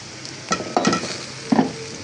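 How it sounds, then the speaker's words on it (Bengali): Bitter gourd slices frying in oil in a pan with onions and green chillies, a close steady sizzle broken by a few sharp stirring scrapes. "এই যে করলাগুলো বেশ কিছুক্ষণ ভাজা করে নিলাম।"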